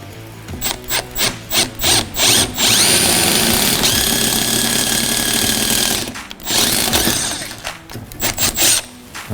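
A 1/4 inch tool tightens the bracket bolts for an LED bumper bar on a 2021+ Ford F150 Raptor Gen 3. Loud, close bursts of mechanical whirring come first, then a sustained three-second run, then more short bursts.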